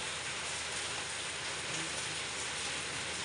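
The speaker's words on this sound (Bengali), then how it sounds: "এবার নাও বৃষ্টি, যত নেবা নাও" Steady monsoon-season rain pours without a break, a dense even wash of falling water close by with no voices.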